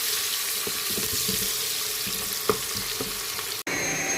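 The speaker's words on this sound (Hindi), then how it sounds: "और अब इसमें मैं प्याज डाल देती हूँ। इसको हमने फ्राई करने हैं, ब्राउन करने हैं।" Onions fry in a pan for daal under a constant crackling hiss, with a few faint clicks and taps of a utensil scattered through the sizzle and a brief dropout near the end.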